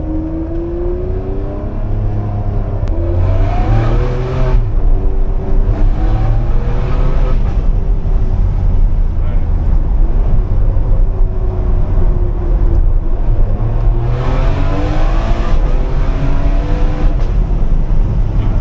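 A Ferrari 599 GTB Fiorano engine revs in first gear with rising and falling harmonic tones, loud and close, running continuously with no voices.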